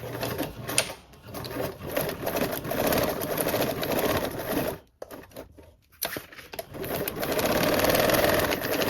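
A sewing machine stitches a quarter-inch seam along fabric, humming and clattering quickly up close. It stops briefly near the middle, then starts again and runs steadily to the end.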